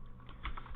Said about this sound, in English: I'm not going to hit enter when I type this in